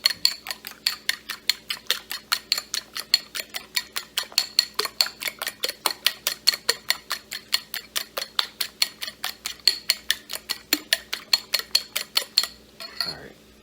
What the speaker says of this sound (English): Whisk it, whisk it, whisk it, whisk it, whisk it